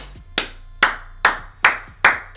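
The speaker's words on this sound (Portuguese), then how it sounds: "Esse aí tem que aplaudir" Five slow, deliberate hand claps close to the microphone, evenly spaced and loud, each a sharp crack with a short decay.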